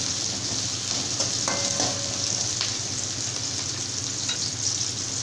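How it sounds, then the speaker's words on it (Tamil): Long-sliced large onions frying in oil for Chettinad chicken gravy, a steady close sizzle and crackle running throughout, with a few light utensil taps. "நீளமா கட் பண்ண பெரிய வெங்காயம் இப்போ வந்து வெங்காயத்தை பாத்தீங்கன்னா நம்ம மாதிரி ஆயில நல்லா வதக்கிக்கலாம்"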